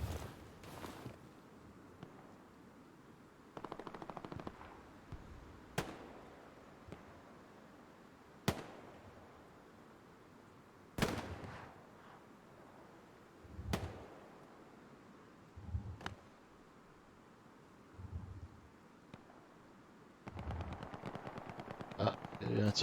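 Gunfire in the video game Hell Let Loose: scattered single shots and short bursts crack out at irregular intervals, some sharp and near, others softer and distant, over a quiet background with faint talk.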